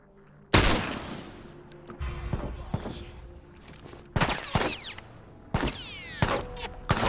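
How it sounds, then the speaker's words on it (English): Gunshots ring out in The Last of Us video game, a sharp loud blast followed by several separate shots spaced over the following seconds, each with ringing metallic echoes, amid low background game sound. "I'm gonna shoot you right now"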